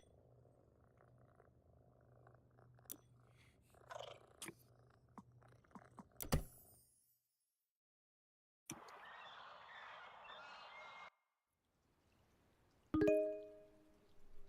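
A cat purrs close by as a low, steady rumble for the first several seconds, followed by a few scattered knocks, a burst of hissy noise and a sharp ringing tone near the end.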